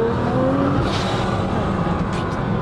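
A 1000 hp Nissan GT-R accelerating hard with its tyres spinning, a loud continuous engine roar and tyre noise heard close up throughout.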